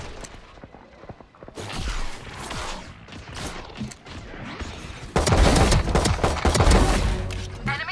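Rapid gunfire bursts from Valorant in a pro match between DRX and BBL at EWC 2025, dense crackling shots and whooshes that swell louder in the second half, with no talk over them.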